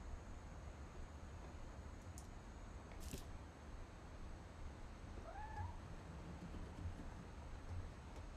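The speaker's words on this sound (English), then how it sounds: "I just heard a cat." A cat meows faintly a couple of times in the video game What Remains of Edith Finch, brief rising calls set against a steady hiss of ambient background noise, with no talking.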